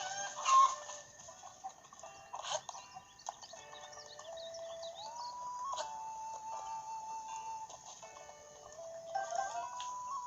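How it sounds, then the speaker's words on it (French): A chicken clucks a few times in the video game The Legend of Zelda: Breath of the Wild, with short clucks heard over steady tonal game music and soft ambient chimes. "Oh, une cocotte."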